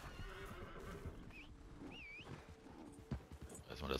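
Horse whinnying in the Red Dead Redemption 2 video game, two clear rising neighs over soft hoof clops and ambient rustle, fairly faint, no speech.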